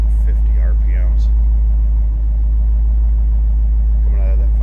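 A 2017 Ford Mustang Shelby GT350 with its 5.2 liter engine gives a loud, steady deep rumble that dominates throughout, with faint traces of a voice.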